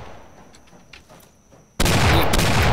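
Gunfire erupts in a Roblox Wild West game: a quiet stretch of faint ambience gives way to a sudden, loud, sustained burst of shots that fills the last second of the clip.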